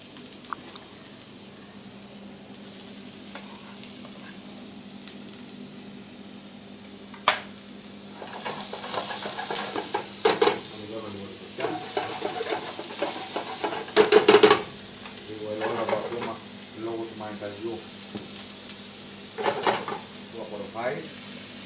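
Food sautéing in olive oil in a pan during a trahana cooking lesson. A faint early hiss builds into a louder sizzle with intermittent scraping and clattering stirs, and voices murmur in the background.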